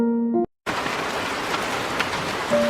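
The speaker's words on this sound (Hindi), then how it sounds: "एक रात तेज बारिश होती है।" Steady, heavy rain pours down with a dense, even hiss, broken briefly by a short silence near the start.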